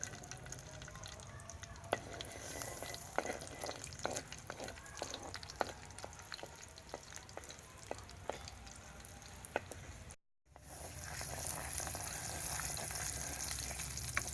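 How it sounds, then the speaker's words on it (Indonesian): Onions fry in hot oil with a continuous close sizzle and crackle, dotted with stirring clicks; after a brief drop-out the frying returns steadier and fuller. "Panaskan minyak secukupnya. Masukkan bawang."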